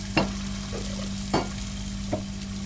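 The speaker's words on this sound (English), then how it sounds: "I'm gonna wash your dishes." Dishes being washed in a cat VR video game: three sharp clinks and clatters spaced about a second apart over a steady electronic hum and background hiss, close and moderately loud, with no talking.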